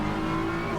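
A race car on the track at the Hungaroring during an XCL race, its engine giving a steady, sustained drone throughout a very brief moment.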